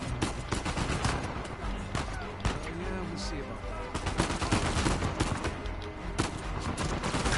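Rapid bursts of gunfire from the video game Uncharted 4, with repeated sharp shots and automatic fire crackling over game sounds, and a player talking in between.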